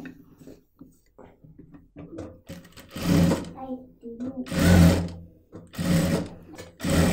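A sewing machine stitches a doormat made from waste cloth at home, running in three loud bursts of whirring stitching, with someone talking in between and quieter handling noises earlier.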